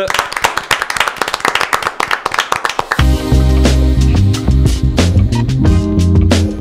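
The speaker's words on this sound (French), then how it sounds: "je vous demande maintenant de faire un tonnerre d'applaudissements pour Fabien Delax" A live audience claps in sharp, distinct hand strikes for a guest speaker at a startup and corporate talk show; about three seconds in, loud music swells in and carries on over the fading applause.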